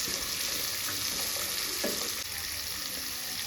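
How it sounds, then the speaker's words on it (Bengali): Mixed vegetables (cauliflower, carrot, peas, potato and beans) fry together in a kadai, giving a steady close sizzle with soft stirring scrapes throughout. "এবার সব সবজিকে একসঙ্গে ভালো করে ভাজবো"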